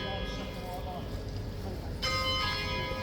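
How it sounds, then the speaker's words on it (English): A church bell rings the 10 a.m. hour from a distance over steady background noise, its tone growing fuller partway through. "Bing bong. There's the 10 a.m."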